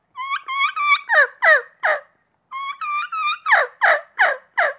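A hand-operated turkey mouth call imitates a fall kiki run: two loud, close series of rising whistled notes, each ending in harsher yelping calls, with a short pause between the series.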